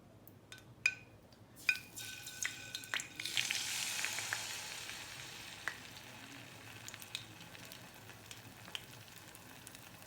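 Saltfish fritters fry in oil in a pot, a steady sizzle building after a few sharp clinks and taps of utensils, then settling into a continuous crackle with occasional pops.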